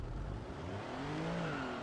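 A damaged car engine in BeamNG.drive labours with a steady droning hum and rising, wavering tones, as if straining and revving unevenly, close and continuous with no talk.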